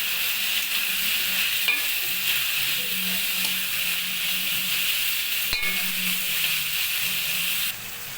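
Pasta with vegetables and turmeric powder is stirred in a frying pan, giving a steady close sizzle with scraping spoon strokes and a couple of sharp utensil taps against the pan.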